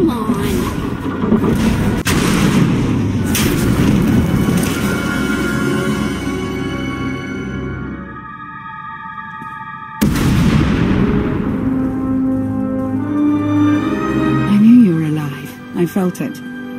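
Heavy explosions in a Star Wars role-playing game shake through a tunnel collapse scene: booming blasts and rumbling debris, one big sudden burst midway, mixed under continuous orchestral music and character dialogue.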